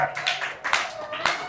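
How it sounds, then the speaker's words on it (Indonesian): Scattered hand claps from a small audience applauding a presenting group in a classroom, close and continuous but light, with a voice speaking over them. "Oke, kasih aplaus untuk kelompok ini."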